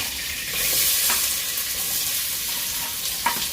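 Chopped onions hitting hot coconut oil in a pan for a ground-spice chicken curry, giving a steady, close sizzle and fry with a few stirring scrapes, no voices.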